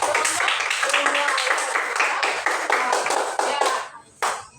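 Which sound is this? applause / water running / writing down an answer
applause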